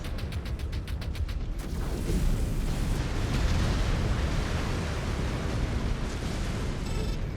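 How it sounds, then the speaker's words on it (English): Incoming missile explosions in MechWarrior 5: Clans, a sustained roar of blasts and rumbling debris following a run of rapid clicking, loud and continuous for several seconds without speech. "Incoming missile"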